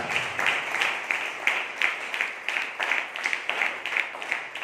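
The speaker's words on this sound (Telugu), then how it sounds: "చప్పట్లు దేవుని స్తుతిస్తారా?" A congregation claps in praise during a fasting prayer service: steady, rhythmic clapping from many hands, moderately loud and slightly distant, continuing throughout.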